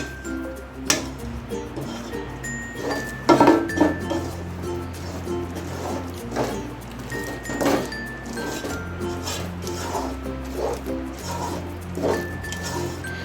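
Peanut katli mixture stirred in a pan just off the stove, a spoon producing scattered light clinks and ticks against the metal over a soft, continuous scraping and squishing, close up with no talking.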